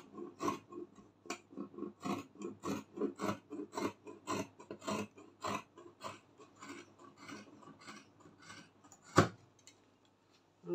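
Scissors cut out the back piece of a halter neck flare gown in a steady series of crisp snips, each chop sharp and close, with a louder single snap near the end.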